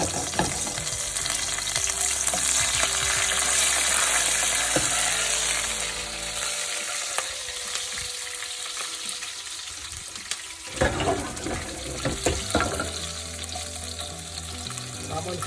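Mauritian chili fritters (gâteau piment) frying in hot oil in a pan, with a steady close sizzle and bubbling, plus occasional utensil clatter and stirring noises partway through.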